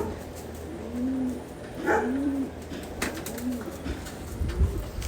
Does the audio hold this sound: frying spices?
no